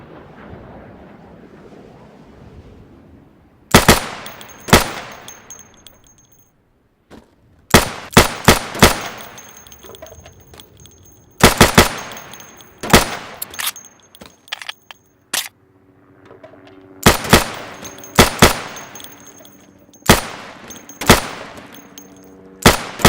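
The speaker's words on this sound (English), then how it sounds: "So you can shoot accurately over 20 feet with your sidearm." Pistol shots at pop-up targets on an Insurgency training range ring out as loud, sharp single cracks and quick pairs, spaced irregularly across the stretch with quiet gaps between groups, heard close and clear.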